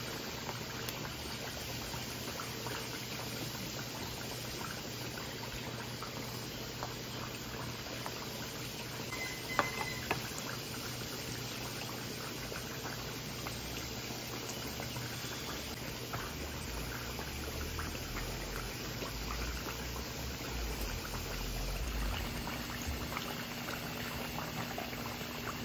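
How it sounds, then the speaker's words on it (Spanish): Meat boiling in a pot for carnitas, a steady low bubbling and simmering texture that runs continuously at moderate level, with a brief clink partway through and no talk. "Ya está hirviendo la carne, ya pasaron 20 minutos."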